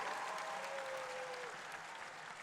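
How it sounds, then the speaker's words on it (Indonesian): A large crowd at a live comedy event in Indonesia applauds continuously, a dense, even roar of clapping heard from a distance and fairly faint, with a brief tonal whine passing through it. "Aku mau minta tolong dong tepuk tangan yang paling meriah untuk Ubah Bareng di seluruh Indonesia."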